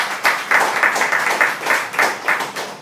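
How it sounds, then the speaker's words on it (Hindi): A church congregation at a fellowship service claps in praise, a rhythmic, even beat of many hands at a steady tempo, fairly close and without talk over it. "आइए ताली बजाए तो उसको महिमा दें।"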